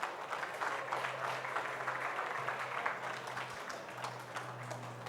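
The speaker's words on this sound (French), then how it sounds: "Vous pouvez l'applaudir, Christian." Steady, fairly faint applause from a conference audience at the Paris Air Show space hub, a dense wash of clapping held evenly for several seconds with a low hum underneath.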